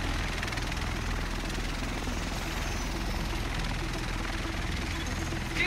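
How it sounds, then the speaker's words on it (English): A helicopter in Tom Clancy's The Division video game drones with a steady low rotor thrum and engine rumble throughout, close and constant, with speech over it. "The rest of us should be in this chopper."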